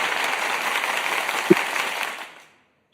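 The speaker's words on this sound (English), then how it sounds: "we definitely gonna have to give a round of applause" A round of applause during a trivia game, steady close clapping with a single sharp louder clap partway through, fading out into silence near the end.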